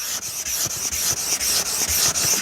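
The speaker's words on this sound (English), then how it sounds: "and just dress it with the Nagura stone." A Nagura stone rubs against a wet sharpening stone in quick, even back-and-forth strokes, a close, loud, gritty scraping with a hiss-like edge and a steady rhythm of about four strokes per second, with no talk.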